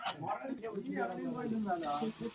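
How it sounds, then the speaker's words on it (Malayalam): Close sizzling and crackling of chillies frying in hot oil, steady throughout with faint stirring, no voices. "ചില്ലി പൊരിക്കാൻ"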